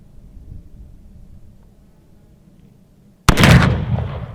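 A single loud, sharp report from a Remington Rolling Block rifle chambered in 43 Spanish, fired outdoors after a few seconds of quiet low background rumble, with a ringing echo trailing away for about a second.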